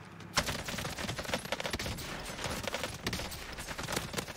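Rapid automatic fire from an AK assault rifle in the Warzone battle royale game, a dense, continuous volley of close, loud shots running throughout with little pause.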